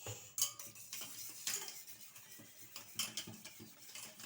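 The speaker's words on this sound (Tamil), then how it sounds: "சர்க்கரை இதேமாரி கொட்டி நம்ம கரைச்சிக்கலாம்" Sugar stirred in a bowl to dissolve it while making cow colostrum milk cake, with a spoon clinking and scraping against the bowl in sharp ringing taps over soft swirling, close up and without speech.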